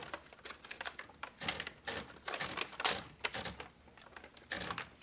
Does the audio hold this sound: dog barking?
no